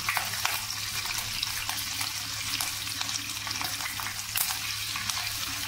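Cumin seeds and green chillies frying in hot oil in a pan for sabudana khichdi, a close, steady crackling sizzle with scattered sharper pops and a low constant hum underneath.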